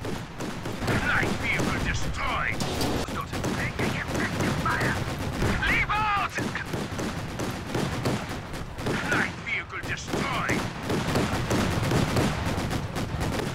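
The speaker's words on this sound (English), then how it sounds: "you will now see four flak half tracks fire on four Sturm Tigers as they are trying to reload" Flak half-tracks fire on Sturm Tigers in Company of Heroes 2, dense continuous bursts of rapid gunfire and explosions layered together for the whole stretch, loud and busy.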